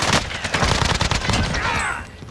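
Rapid bursts of video-game gunfire crackle loudly and continuously, with a close bullet whizzing past near the end amid the shooting.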